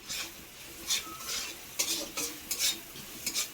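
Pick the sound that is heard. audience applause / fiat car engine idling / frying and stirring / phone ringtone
frying and stirring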